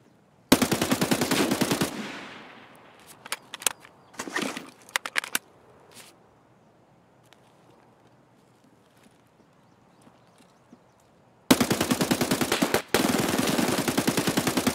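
Automatic gunfire in the shooter game Escape from Tarkov: two loud sustained bursts of rapid shots, one near the start and one near the end, with scattered single shots and a quiet stretch between.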